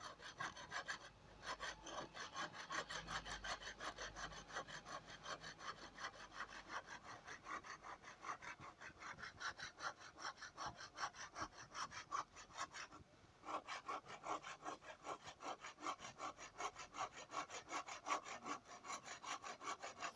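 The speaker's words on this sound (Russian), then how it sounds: "Тебе неудобно так пилить будет." Hand saw cutting through wood outdoors, a steady rhythmic back-and-forth rasp of the blade continuing for the whole stretch with only a brief pause, close and fairly loud, no talking.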